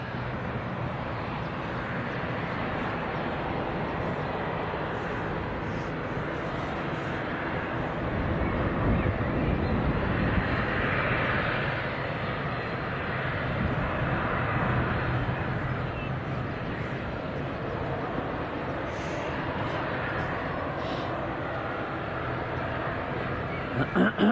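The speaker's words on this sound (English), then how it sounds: "This Aer Lingus is going out to Belfast" Aer Lingus ATR turboprop airliner departing Leeds Bradford Airport for Belfast, a steady broadband engine roar that swells slightly mid-way and holds at moderate distance, with wind noise on the microphone throughout.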